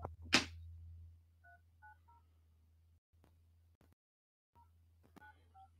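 Telephone keypad dialing tones from a phone placed close to a microphone while calling a real estate agent: a short run of distinct beeps, then a brief pause and a few more tones, clear against a low steady hum after a loud thump.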